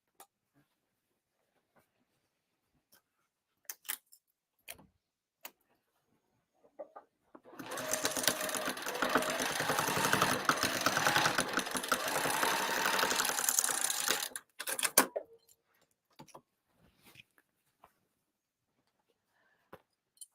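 A sewing machine stitches card slots for a pop-up cross body bag lining, running in one steady burst of about seven seconds, close and fairly loud, with quiet handling clicks before and after.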